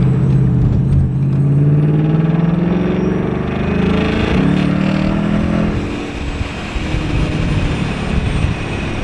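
A supercharged Mustang 5.0 with an MBRP street exhaust, in sport mode on an automatic, makes a hard full-throttle pull, a deep, loud engine roar rising in pitch through the gears and then settling, heard close from inside the car.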